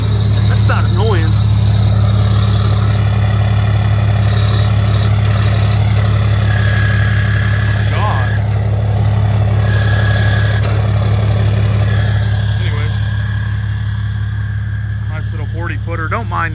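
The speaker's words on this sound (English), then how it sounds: "Don't mind the exhaust shield rattling over there" A gooseneck trailer hauler's truck idles with a steady low engine drone while a loose exhaust heat shield rattles and buzzes intermittently nearby, with occasional squeals and someone speaking over it.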